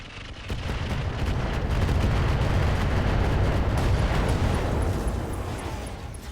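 Standard-ammo weapons fire in the mech combat game RogueTech (BattleTech), a loud, continuous barrage of booming, rumbling shots that swells and holds for several seconds before easing off.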